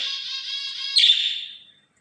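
A pet myna gives one sustained, ringing, whistle-like call lasting about two seconds. It sounds loud and near and is heard alone before it fades out.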